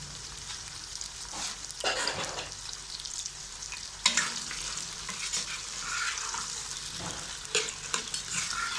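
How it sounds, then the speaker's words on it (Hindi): Meat frying in a pan for a turnip meat curry, a steady close sizzle with occasional stirring scrapes and louder spatters. "सबसे पहले इसको फ्राई करना बहुत ज़रूरी होता है"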